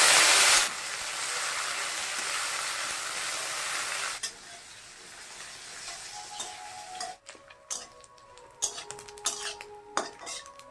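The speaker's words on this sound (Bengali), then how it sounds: "কড়াই গরম হয়ে গেছে তেল দিয়ে দিচ্ছি শুকনো লঙ্কা দিয়ে দিচ্ছি রান্ধুনি ফোড়ন দিয়ে দিলাম শুটকি মাছটা দিয়ে দিচ্ছি" Dried fish frying in hot oil with dried red chilies and radhuni seed tempering in a heated wok, a steady loud broadband sizzle that drops after a few seconds, followed by clinks and scraping of a utensil against the pan.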